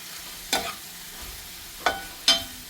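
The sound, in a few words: sautéing vegetables with fennel and turmeric powder for kurma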